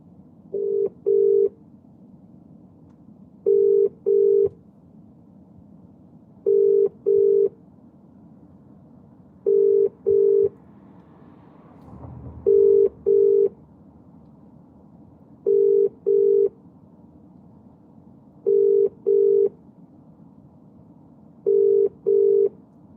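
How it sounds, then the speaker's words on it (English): A phone call being placed: a repeating pattern of paired electronic ringback tones at steady intervals, about eight double rings in sequence over a faint background hum, with no voices. "I'm trying to make a call and see if we can actually get through"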